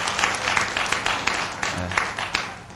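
A church congregation claps in blessing during a Korean worship service, a dense, steady patter of many hands filling the room with a few voices mixed in.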